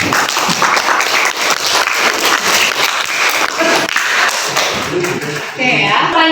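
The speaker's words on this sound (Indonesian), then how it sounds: "Berikan aplaus kepada Ibu." Applause from a classroom of students at a high school, a dense burst of clapping that runs steadily for several seconds, mixed with some voices and fading near the end.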